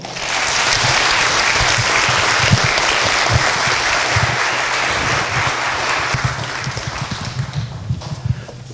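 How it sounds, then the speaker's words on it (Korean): A university lecture audience gives sustained, loud applause welcoming a bank group chairman to the stage, a dense, steady wall of clapping that thins slightly toward the end. "큰 박수로 맞아주십시오."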